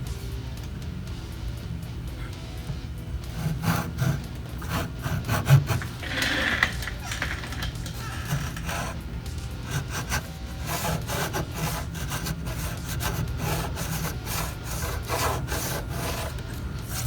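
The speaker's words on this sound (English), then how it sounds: "all I need to do is clean out these fret slots" Fret slots on a homemade electric guitar neck are cleaned out by hand, giving steady scraping and rubbing strokes in a continuous rasping rhythm, close and moderately loud throughout.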